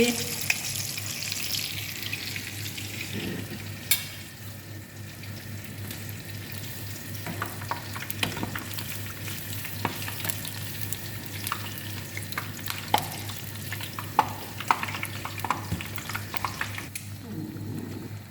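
Mango malpua pitha fry in a pan of hot oil with a steady bubbling sizzle throughout, broken by occasional clinks and scrapes of a utensil; no one speaks.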